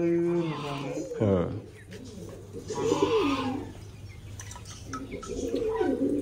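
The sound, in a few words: pigeons cooing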